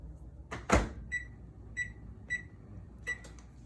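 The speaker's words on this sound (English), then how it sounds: "I'm gonna cover this and put it in the microwave." A microwave oven heating caramel popcorn in a Tupperware stack cooker gives a soft thud as its door shuts, then a string of short electronic keypad beeps at a low, quiet level.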